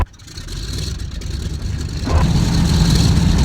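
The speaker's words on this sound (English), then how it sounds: "Let's start the engines here." Four Pratt & Whitney R1830 radial engines on a Consolidated Privateer in Flight Simulator X start up on a naval air station runway, a low rumble building steadily and thickening into a loud, heavy drone.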